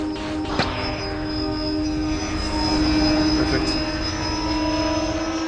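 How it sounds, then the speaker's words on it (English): Propellers of a tethered kite power plane spin up for launch on a windy site, a loud, steady droning whine with a sustained pitch. A voice speaks briefly at the start. "For takeoff, the propellers act like they do on a normal plane."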